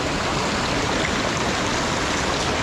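Strong water gushes steadily from a freshly repaired rural water line, a loud, continuous rushing flow close by with no voices.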